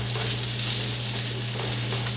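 Chopped shallot sizzles in a hot skillet, a steady close hiss of frying with faint stirring, and no voices over it.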